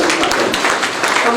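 Applause for a poet at a Hindi book-launch ceremony, a dense continuous wash of many hands clapping close and loud through the whole short stretch, with some voice mixed in.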